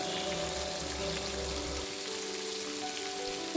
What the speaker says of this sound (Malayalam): ഇനി നമുക്ക് മറ്റേ സൈഡും കൂടി ഇതുപോലെ ഫ്രൈ ആക്കി എടുക്കാം